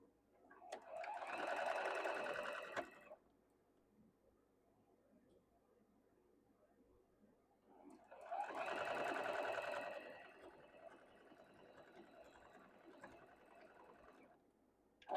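A domestic sewing machine stitching a quilt block seam runs in two steady bursts of a few seconds each, separated by a quiet pause, with a faint low hum in between.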